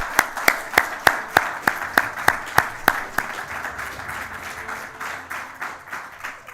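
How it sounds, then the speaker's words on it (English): Audience applause for students at an academic achievement awards ceremony, beginning with a run of sharp, evenly spaced loud claps that give way to a softer, steady wash of clapping. "let's give our students another big round of applause"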